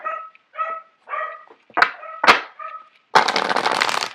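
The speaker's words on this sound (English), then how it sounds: "I apologize for the dogs barking in the background." Dogs bark and yip in a run of short, sharp bursts at moderate distance, several separate barks in quick succession before a longer, noisier rush of sound near the end.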